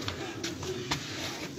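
Pigeons coo in a traditional old house in Khorasgan, Iran, soft repeated throaty calls close by, with faint voices in the background.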